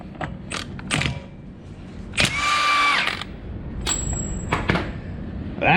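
A power tool on a 2007 GMC Sierra 1500 4x4 loosens a 36 mm nut during a front wheel speed sensor job. It gives short, loud ratcheting bursts and mechanical clatter, with metallic clanks between them and no talking.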